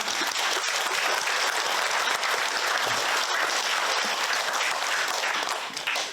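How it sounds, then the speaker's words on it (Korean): Sustained audience applause fills the hall at a gathering opened by Father Ham Se-woong, dense and steady clapping that holds loud throughout before tapering slightly at the end. "모든 분들 감사하는 마음으로 손뼉 치고 시작하겠습니다"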